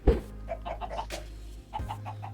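Chickens in the Minecraft video game give a run of soft, evenly spaced clucks, a brief pause, then a few more, faint against a steady low background hum.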